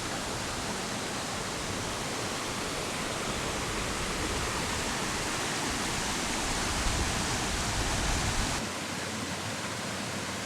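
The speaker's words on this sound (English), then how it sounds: "Here we are, the little upper cascade here on Mink Creek Falls." Small upper cascade of Mink Creek Falls pouring over rock, a steady, dense rush of falling water that stays loud and unbroken throughout, with no voices.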